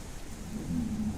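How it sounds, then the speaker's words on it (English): Rain showers fall over an alien ocean in the game South Scrimshaw, a soft steady hiss of rain with a low rumbling swell building in the second half, quiet and without talk. "Scattered showers are currently moving through the area."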